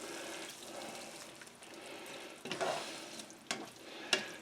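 Seasoned pork chops frying in a hot pan on the stove, giving a steady soft sizzle with a few brief clicks and clatters of utensils; no talking.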